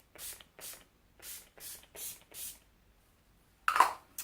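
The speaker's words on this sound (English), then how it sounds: "shake it really good, and just spritz." Urban Decay Quick Fix priming spray spritzed onto a face from about 8 to 10 inches away, six short soft hissing puffs in an even rhythm, then a pause before a louder, fuller burst close by.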